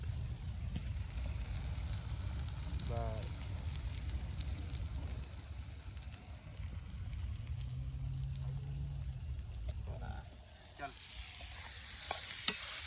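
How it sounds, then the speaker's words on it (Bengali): Onions with salt and turmeric sautéed in a pan: a continuous low sizzle with scraping stir strokes, fairly faint and steady, with a low background rumble and a few small clinks near the end. "সুন্দর করে কষা একদম পেঁয়াজটাকে, একদম দারুণ হবে।"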